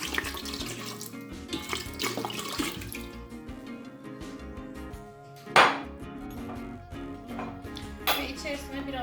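Cold water poured into a butter churn machine while making butter and ayran, a steady splashing gush running through the clip with a louder clatter midway; no speech over it.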